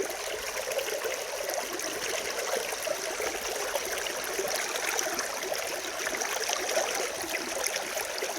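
Creek water at Sailors Creek near Daylesford flowing over stones, a soft continuous trickling and babbling stream, steady and fairly quiet with no talk.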